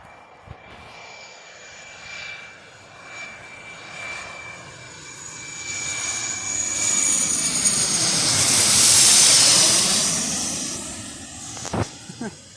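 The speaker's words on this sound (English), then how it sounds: "But I think that will be the last plane just to finish off this video. Right, it's coming real fast." A small airplane flies past, its engine drone building gradually from a distance to a loud, close peak and then fading away, with a steady high whine running through it.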